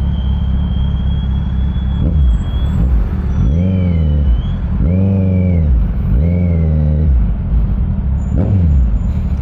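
A Kawasaki Z900 SE motorcycle engine revs repeatedly while riding, rising and falling in pitch three or four times over a constant low rumble, loud and close.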